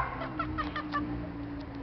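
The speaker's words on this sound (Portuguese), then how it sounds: "Galo! É galo! É galo!" A rooster clucking in short, repeated bursts close by over a low, steady engine-like hum, as if heard from a passing car, with no talk.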